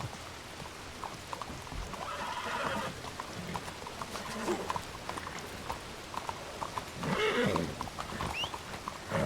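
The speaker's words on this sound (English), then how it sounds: "Just hitching the horses." Hooves clop and shuffle on the ground as horses are hitched, amid soft outdoor patter, with rustling movement and a few sharper knocks, fairly close and uneven.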